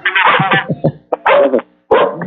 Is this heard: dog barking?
yes